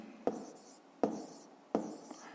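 Pen writing on paper in three short bursts of scratchy strokes, each starting with a sharp tap and fading, close and quiet with pauses between.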